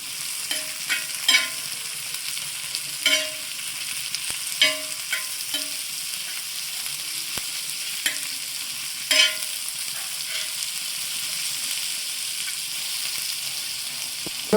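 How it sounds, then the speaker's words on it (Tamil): Sliced onions sautéing with chicken in a pan, steady sizzling frying under repeated scraping stirs of a utensil against the pan, close and fairly loud throughout with no talk. "சேர்த்து வெங்காயம் நல்லா வதங்கி வரதுனா வதக்கி விடணும்"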